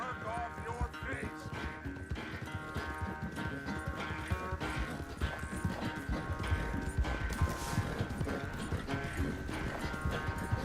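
Horse hooves clip-clopping steadily in Red Dead Redemption 2, a continuous rhythmic walk mixed with game ambience, tack jingles and an occasional snort, with no talk over it.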